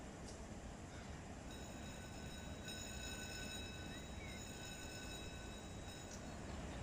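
Freight train pulling out of a rail yard in the Run 8 train simulator: a steady low rumble of rolling cars and locomotive, moderately close and continuous, with faint high metallic tones drifting over it.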